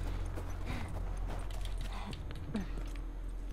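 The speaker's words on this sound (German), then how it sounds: "Wir haben unser Pferd verloren." Horse hooves clip-clop steadily at moderate distance in the video game The Last of Us Remastered, a continuous walking rhythm under a low game ambience with faint background sounds.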